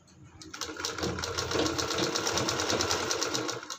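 A sewing machine runs steadily, stitching along a thin fabric strip to finish an edge, its rapid even rattle starting after a brief pause and staying close and continuous throughout.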